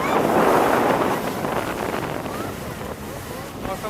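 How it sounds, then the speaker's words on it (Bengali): A speed boat on the water at a park in Narayanganj, heard as a broad rushing wash of motor and water under heavy wind buffeting on the microphone. "ওই যে দেখেন একটা স্পিড বোট"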